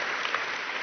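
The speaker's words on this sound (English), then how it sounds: "Let's give him a nice big round of applause" An audience at a live seminar gives a sustained round of applause, a dense, even wash of many hands clapping with no voices standing out.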